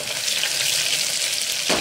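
Ginger and chillies for a mutton curry hit hot oil in a pan, giving a loud, steady sizzle and crackle that runs unbroken and cuts off sharply at the end.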